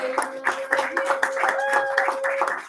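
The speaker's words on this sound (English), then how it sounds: "If you're not clapping, I'm judging you." Audience members clap at a Toastmasters club meeting, a loose scatter of hand claps running throughout under a steady sustained tone, with a voice also talking over it.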